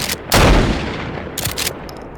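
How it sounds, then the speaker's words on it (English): A shotgun fires in the video game Garry's Mod: one loud, sharp blast with a booming tail, followed by a second, softer report about a second later. "I should like this shotgun"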